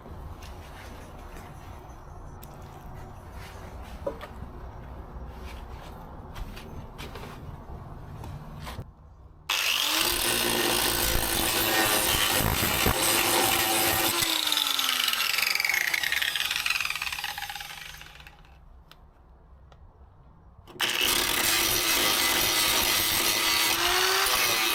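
Angle grinding of metal on the inner wing of a Rover P6 car: two long, loud, harsh bursts of grinding, one winding down with a falling whine, after a quieter stretch of faint background sound.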